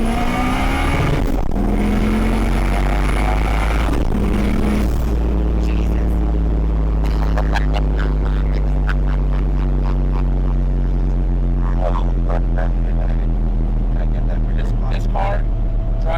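Turbocharged Honda Civic EF sleeper, around 400 hp, driving with a steady loud engine drone and gear changes. Brief clicks and knocks from the cabin ride over the hum.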